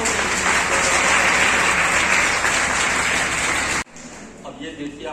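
Hall audience at a talk on changing family patterns breaking into loud, dense applause that holds steady, then cuts off abruptly, leaving quieter room sound and faint voices.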